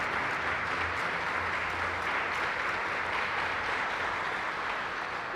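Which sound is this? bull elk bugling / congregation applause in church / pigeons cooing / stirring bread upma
congregation applause in church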